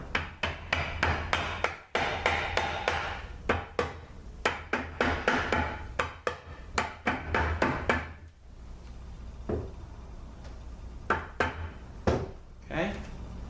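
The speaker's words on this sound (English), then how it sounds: "We're going to give it a taps on a couple of dowels." Hammer tapping a part down onto dowels during a ZF5HP19 transmission teardown from a Porsche Boxster, a rapid run of sharp close metallic knocks that thins to occasional single taps.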